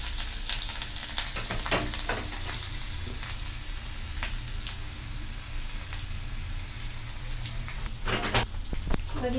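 Garlic frying in oil for a tempering, heard as a steady soft sizzle with occasional clicks and stirring knocks, under some talk.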